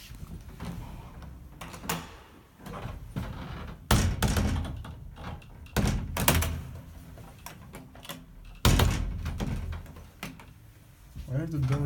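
Rare Radnik elevator doors in Zagreb slide and clunk in several abrupt bursts, with sharp knocks and rattles between quieter stretches as a person talks nearby.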